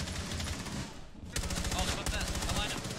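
AK rifle fire in a first-person shooter video game comes as rapid, dense bursts of automatic shots, loud and close, with a brief gap before the firing resumes.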